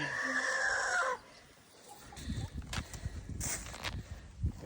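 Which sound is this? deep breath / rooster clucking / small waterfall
rooster clucking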